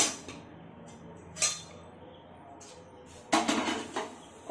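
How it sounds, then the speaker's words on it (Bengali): A few sharp metallic clanks and scrapes as a wok is set down on a gas stove in a quiet kitchen, the loudest cluster near the end. "কড়াইটা বসিয়ে দিলাম গ্যাসটা বাড়িয়ে দিয়েছি"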